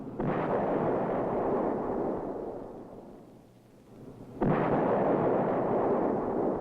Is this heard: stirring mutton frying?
no